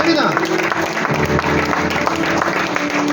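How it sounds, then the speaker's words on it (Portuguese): A church congregation applauds, a short burst of dense, steady clapping from a crowd heard together with a voice speaking over it. "Aplauda pela vida dos 3."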